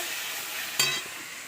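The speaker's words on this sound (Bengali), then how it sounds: "বাবা আমার মেয়েও একটুখানি খুন্তি নাড়াচ্ছে, হেভি স্বাদ হবে আজকে রান্না" A spatula stirring spiced meat masala as it fries in a pan, heard as a constant sizzle with one brief scrape near the middle, with no voices.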